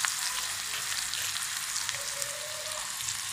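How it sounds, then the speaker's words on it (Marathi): Onion fries in oil with cumin and mustard seeds, a soft, even sizzle with fine crackling, heard close but fairly quiet and alone. "हा चांगला लाल होईपर्यंत थोडासा परतून घे।"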